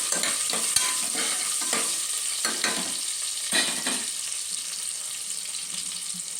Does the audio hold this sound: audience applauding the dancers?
no